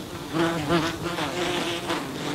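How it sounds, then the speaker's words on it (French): Wasps buzz steadily around a wasp nest, a close, continuous droning hum that wavers in pitch as insects move about, with no talking. "Aujourd'hui, par exemple, un nid de guêpe."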